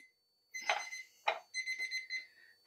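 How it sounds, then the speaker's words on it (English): A kitchen timer alarm goes off while strawberry cupcakes bake, giving two short bursts of bright electronic ringing and then a quick run of repeated beeps, close and clear with no talk. "that timer was for my bigger ones"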